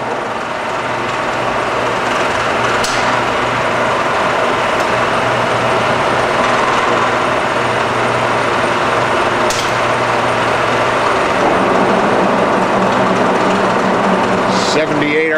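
Cincinnati horizontal milling machine with a vertical spindle turning slowly, a steady mechanical hum and whir running throughout with someone talking over it, a couple of faint clicks along the way.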